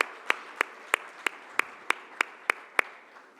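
Sparse clapping at a construction industry awards summit in Oman, about ten distinct, evenly spaced handclaps from a single person or small group, fairly faint against a quiet room.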